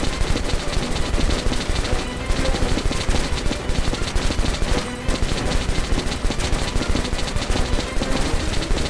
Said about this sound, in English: What is ammo when you have a minigun?